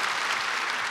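An audience at an SAP SuccessConnect corporate keynote breaks into a short, dense burst of applause for the event's sponsors, a steady wash of many hands clapping at once from start to end.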